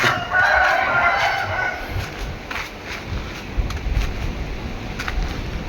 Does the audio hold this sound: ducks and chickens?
yes